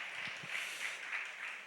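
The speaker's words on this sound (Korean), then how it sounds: "우리 권사님에게 큰 박수 보내주셔서 감사하겠습니다" A congregation applauding in a church during a Korean youth worship service, honoring a deaconess: a steady wash of many hands clapping, soft and somewhat distant, with no talking over it.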